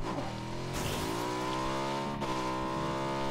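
A vehicle driving in PUBG, its engine revving in a steady rising drone with tire noise throughout, loud and close, with no talk over it.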